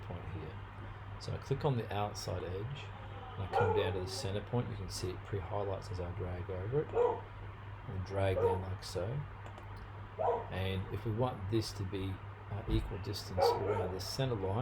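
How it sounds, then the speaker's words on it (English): A dog barks intermittently in the background while someone narrates steadily through a CAD modelling tutorial, with occasional mouse clicks. "Excuse the dog barking in the background."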